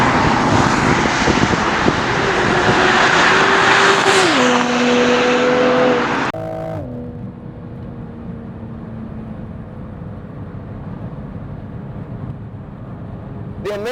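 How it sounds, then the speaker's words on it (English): A 2020 Toyota Supra with a BMW-sourced twin-turbo engine accelerates hard, its exhaust roaring loudly as the engine note climbs and shifts up through gears, then settles into a quieter steady cruise drone. "you still hear the Toyota Supra sound, the exhaust sounds"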